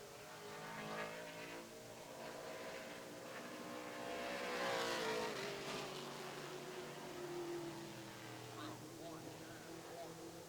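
A Great American Stocks stock car runs a timed qualifying lap, its engine droning and rising in pitch as it nears, then fading as it passes, with a race announcer talking over it.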